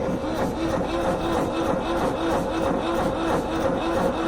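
Waldon 5000 diesel front loader being cranked on a cold start, its starter turning the engine over in a steady, even rhythm at close range with no firing, continuing throughout.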